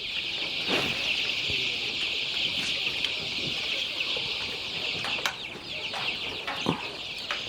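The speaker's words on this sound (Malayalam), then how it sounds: "ഇതെല്ലാം മുട്ടക്കോഴികളാ ഇതെല്ലാം മുട്ടക്കോഴി" Laying hens cluck and murmur continuously in a crowded coop on a farm, with occasional louder squawks and scuffling against a steady hum of background noise.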